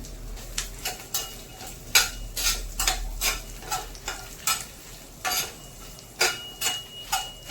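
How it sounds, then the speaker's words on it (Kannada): Coriander seeds fried in a pan with Byadgi chillies and curry leaves while a spoon stirs them, close rhythmic scraping and clinking strokes over a soft sizzle, repeated steadily. "ಇದು ಒಂದು ಒಳ್ಳೆ ಘಮ ಕೊಡೋವರೆಗೂ ಫ್ರೈ ಮಾಡೋಣ."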